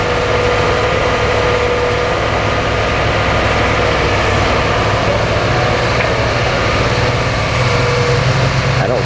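A Caterpillar EL300B excavator's diesel engine runs steadily at a heavy, constant drone, loud and close, working at a reduced hydraulic power setting with no pauses or voices.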